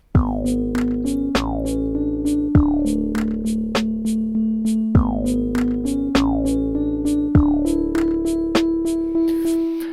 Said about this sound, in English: E-piano classic, and just made a little melody.